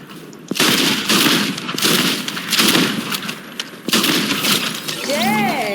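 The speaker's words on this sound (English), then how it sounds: "I'm gonna use this new shotgun" A new lever-action shotgun fires in a video game, loud repeated blasts in quick succession with crashing impacts, over a busy game soundscape with a voice talking at the end.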